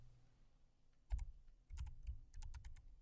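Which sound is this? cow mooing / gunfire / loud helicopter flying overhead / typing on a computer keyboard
typing on a computer keyboard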